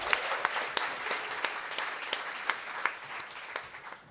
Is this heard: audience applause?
yes